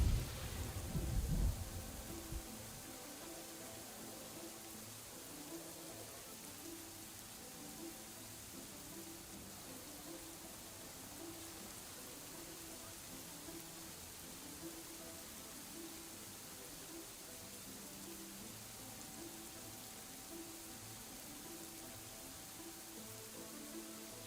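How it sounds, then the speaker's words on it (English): Steady rain with low thunder rumbles in the city-building game Nova Roma, a loud crack at the start giving way to continuous hissing rainfall and a looping low tonal music bed. "It's raining."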